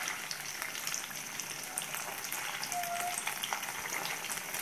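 Sardines shallow-frying in oil, home-style fish fry, give off a dense, even crackling sizzle with tiny pops and spits all through, fairly soft and steady, with no voices.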